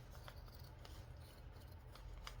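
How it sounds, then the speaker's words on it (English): Scissors working through thick upholstery fabric give a continuous close rasping, rubbing crunch, quiet and laboured, with no talk. "Scissors are acting like they don't want to cut it."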